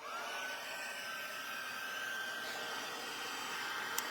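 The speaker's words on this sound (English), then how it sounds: "So there's an embossing gun that we sell, and that's how we melt this." An embossing heat gun on its hot setting blows steadily over embossing powder, a loud, even, close rushing roar like a hair dryer that runs unbroken throughout, with no talking.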